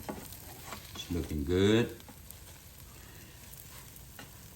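French toast sizzles and scrapes as it is flipped in a Power XL cooker, a short burst of frying and stirring noise over a faint steady hiss, followed by a brief spoken comment.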